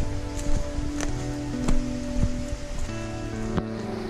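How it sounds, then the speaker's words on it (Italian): Running water along the Via del Volto Santo trail between Pontremoli and Treschietto, a steady close splashing and trickling wash with small drips and soft clicks on top, no talking. "Acqua corrente."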